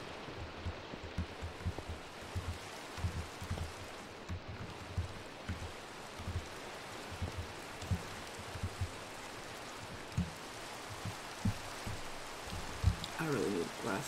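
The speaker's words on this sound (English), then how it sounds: "I wonder how long it's going to rain." Minecraft rain in a late-night modded Java session: a soft continuous patter with faint rhythmic thumps underneath, quiet and steady with no talk over it.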